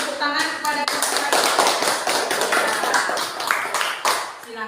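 Classroom audience claps for a presenting group during a teacher training session, a loud, busy patter of many hands, nearby and continuous, with voices mixed in underneath.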